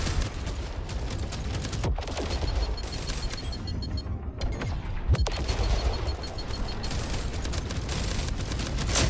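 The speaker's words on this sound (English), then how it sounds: "Our shields can't be repaired as long as these ships are firing at us" Enemy spaceships in a space combat game fire weapons nonstop in dense, loud bursts of rapid shots and booms, a continuous barrage with no voices.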